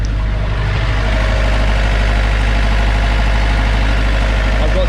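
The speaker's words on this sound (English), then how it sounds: "the engine started spluttering" A sailboat's diesel engine, spluttering while diesel leaks from a fuel fitting, runs loud and close with a steady, continuous rumbling drone and no voices.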